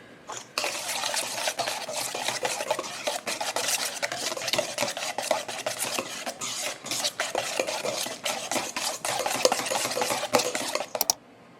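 Homemade ranch dressing with lemon juice stirred briskly in a bowl, a steady run of close scraping, clinking utensil strokes lasting several seconds before stopping, with no talking.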